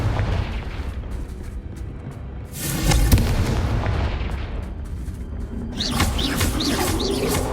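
A Confringo blasting spell in the Hogwarts Legacy game on PS5 goes off with booming explosive bursts over loud game ambience, followed by crackling debris and chirpy bird-like effects; no one speaks.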